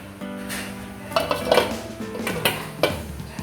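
Metal clanks and clinks near a steamer holding a rava pudding of semolina and milk as a pot lid is set in place, with several sharp knocks over a low kitchen background.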